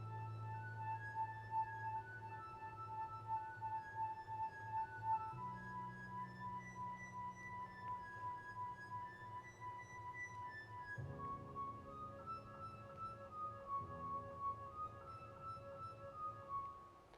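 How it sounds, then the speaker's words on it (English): Glass harmonica tones ring out in slow, sustained, overlapping notes, soft and clear with shimmering harmonics, changing pitch every few seconds in a gentle melodic line, with no talking. "I just took the part with the glass harmonica sound effect."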